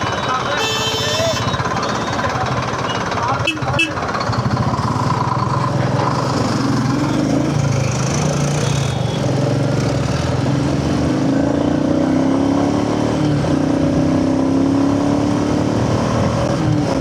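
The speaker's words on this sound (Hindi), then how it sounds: "भाई साहब, इतना ट्रैफिक" Dense road traffic surrounds a rider on the way to the office, with engines droning and revving close by, horns honking, and a constant loud rumble throughout.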